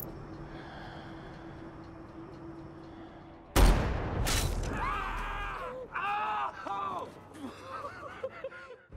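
A single sharp sniper rifle shot cracks out after a quiet stretch in a movie scene, followed by a voice speaking.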